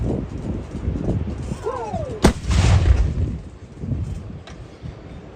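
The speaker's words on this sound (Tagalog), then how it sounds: "Battery commander will command again the chief of section to fire the weapon." A military artillery weapon fires a single loud, sharp blast during a live-fire drill guarding the West Philippine Sea, against steady wind noise, with a faint second report later.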